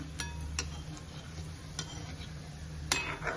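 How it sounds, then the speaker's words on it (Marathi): Gulab jamun made with khoya fry in oil in a wok, a soft steady sizzle broken by a few light taps and scrapes of the stirring spoon against the metal. "थोडे थोडे करून आपण हे सर्व तळून घेणार आहोत"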